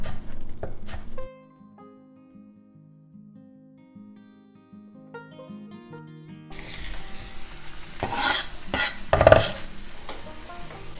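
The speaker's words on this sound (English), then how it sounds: "You're going to saute your onions for about 3 to 5 minutes in about 2 tablespoons of butter" Onions sautéing in about two tablespoons of butter for Polish potato and cheese pierogi filling, with a quiet stretch giving way to a steady sizzle and stirring, plus a few louder scrapes and clatters of utensils against the pan.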